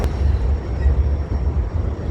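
A long train passes through downtown Shreveport at night, a steady low rumble that holds for the whole stretch, fairly close and fairly loud, with no talk over it.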